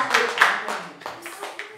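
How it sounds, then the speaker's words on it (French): Church congregation clapping in scattered bursts, a few close irregular claps mixed with voices during a service. "Est-ce qu'on peut acclamer la parole du Seigneur?"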